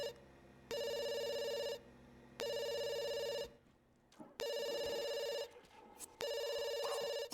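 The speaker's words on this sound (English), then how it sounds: "And then he should probably answer the phone." A telephone rings in The Sims video game, Pleasantview neighbourhood: four loud, evenly spaced electronic bell rings, each about a second long and separated by short gaps, with soft game sounds in the pauses.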